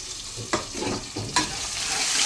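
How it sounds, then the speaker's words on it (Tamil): Sliced onions deep fry in plenty of oil for chicken biryani, giving a steady close sizzle broken by two or three sharp scraping stirs of a spoon in the pan. "அதை வந்து ஃபுல்லாக போட்டு நல்லா டீப் ஃப்ரை பண்ணிடுவோம்."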